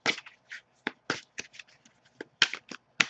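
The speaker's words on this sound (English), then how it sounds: "as I shuffle the deck" A deck of tarot cards is shuffled by hand in quick close bursts of riffling and slapping, irregular short clusters with small gaps between them and no voices.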